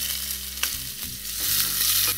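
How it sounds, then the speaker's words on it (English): Onions hit hot oil with popped cumin seeds in a Moroccan vegetable couscous pan, giving a steady close sizzle with a few sharp clicks and stirring scrapes. "It looks like my cumin has popped and now I'm going to add the onions."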